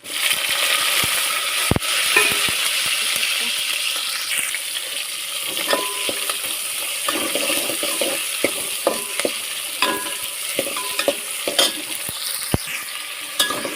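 Vegetables with garlic and tomato are stirred and sautéed in a pan, a steady close sizzle with frequent scraping and clinking from a spatula.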